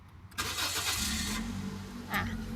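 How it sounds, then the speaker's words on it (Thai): A 2015 Toyota Yaris 1.2 engine cranks and catches, then settles into a steady low idle with a brief rev near the end, close by. "นับจะสตาร์ทให้ฟังเสียงเครื่องนะคะ"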